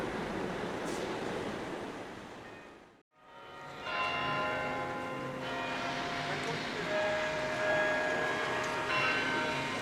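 Church bells chime near St Clement's Church on the Strand in London, a steady ringing carried over the continuous wash of city traffic, with a brief dropout partway before the bells resume.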